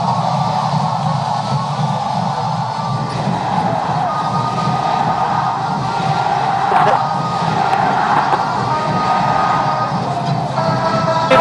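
Huge basketball crowd at Araneta during a 2004 PBA Finals game between Ginebra and Red Bull, a steady, loud roar of cheering voices filling the arena and swelling slightly toward the end.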